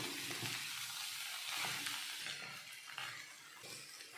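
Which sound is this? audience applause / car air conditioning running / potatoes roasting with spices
potatoes roasting with spices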